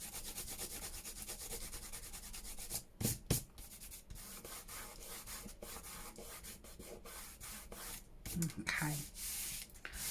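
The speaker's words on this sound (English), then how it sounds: "should be able to get that rubbed off with the magic finger rubber." Steady scratchy rubbing as a rubber eraser works dried glue off a paper folio lap book, close and continuous, with a brief spoken word and a few louder scuffs.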